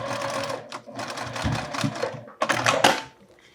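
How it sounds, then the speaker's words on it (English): A sewing machine stitches across the metal zipper teeth of a fabric wallet, running in quick rattling bursts of a second or two with short pauses, close and loud, with a final faster run before stopping. "And then I'll sew that last little stretch over the zipper teeth."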